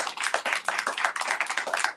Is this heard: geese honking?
no